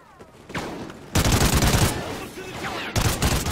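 Rapid bursts of automatic gunfire from a Call of Duty Ghosts campaign firefight crackle loudly and densely, breaking off briefly before resuming, with no voices over them.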